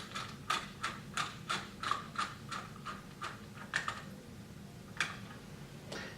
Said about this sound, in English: secure them with the can wrench.